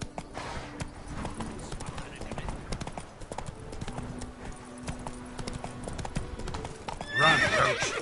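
The horse Roach from The Witcher 3 video game gallops with rhythmic hoof clip-clop, then gives a loud whinnying neigh near the end, with game dialogue spoken over the hoofbeats.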